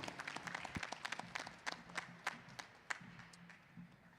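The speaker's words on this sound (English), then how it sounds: "Give him a round of applause." A faint, distant crowd at a boxing event claps steadily, the applause thinning out toward the end.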